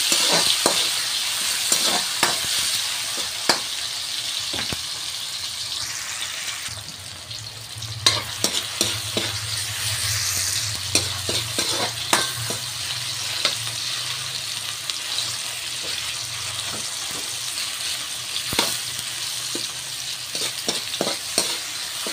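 Tomatoes fry and sizzle loudly in a hot pan, a steady hiss broken by frequent sharp stirring clacks and scrapes that run throughout.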